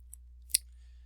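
Computer mouse clicks during 3D CAD work, heard as two small, sharp, close ticks, the second louder, against otherwise near-silent background hum.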